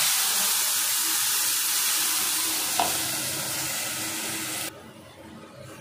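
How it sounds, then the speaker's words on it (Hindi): Masala paste sizzling in hot oil, a steady loud hiss of frying that carries on evenly, with a faint stir midway before the sizzle drops in level near the end. "अब इसको अच्छे से तब तक फ्राई करना जब तक इसमें से ऑयल निकल जाए साइड से"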